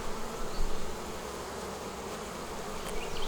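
Honey bees from a strong hive readied for winter buzz densely around the open box, a loud, close, unbroken hum filling the whole moment with no talk.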